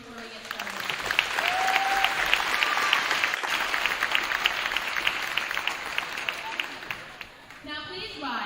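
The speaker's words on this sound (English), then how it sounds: "Please join me in a round of applause and appreciation before we get started." Sustained applause from a crowd in a high school basketball gym fills the space, steady and fairly loud, with a brief clatter of sound near the end as the clapping fades.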